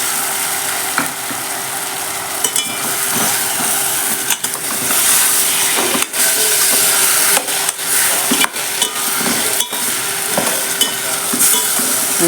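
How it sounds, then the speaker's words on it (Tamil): Eggplant and drumstick pieces fry with onion, tomato and green chilli in a pan for a kuruma: a steady, close sizzle broken by repeated scraping stirs, with no talking. "வெங்காயம் கத்திரிக்காய் முருங்கைக்காய் சேர்த்துக்கலாம்"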